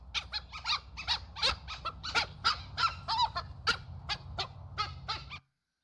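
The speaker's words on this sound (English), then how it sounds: "They have whistling calls to communicate with each other." Dhole whistling calls recorded at San Diego Zoo: a rapid series of squeaky, high whistles and yelps, repeated in uneven bursts for about five seconds, clear and moderately close, then stopping abruptly.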